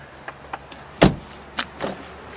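A car door on a solid, heavy, very clean automobile shuts with one loud, close, deep thud, set among a few fainter clicks and knocks before and after.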